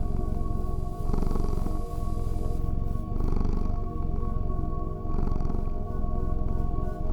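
A cat purrs in a steady, continuous rumble with rhythmic swells every couple of seconds, close and fairly loud throughout with no talking.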